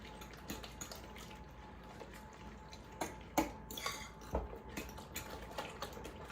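A utensil clinks and scrapes against a dish while veggies are stirred into an egg bake mixture, with soft irregular taps and wet stirring sounds, fairly quiet over a faint steady hum.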